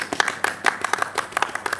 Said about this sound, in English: can we give a big round of applause to Erica as well?